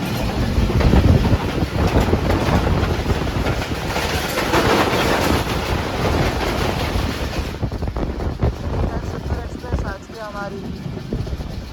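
A Pakistan Railways passenger train running and crossing another train near a station, loud rumbling and rattling wheel noise with wind buffeting throughout, easing slightly toward the end.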